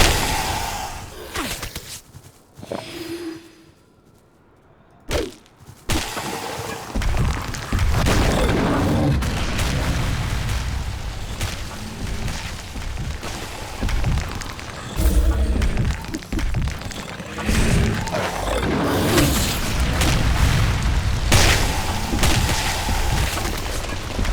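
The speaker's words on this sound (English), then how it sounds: "That is a fire golem, I believe." Heavy booming thuds from a fire golem stomping through a Grimrock II dungeon, loud and repeated over a dense, rumbling game soundscape, with a brief quiet gap early on.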